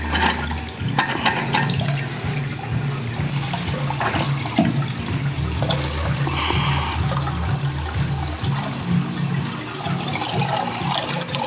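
Toilet tank refilling with water after repair of a leak, a steady continuous rush and trickle of water close by, running throughout without talk.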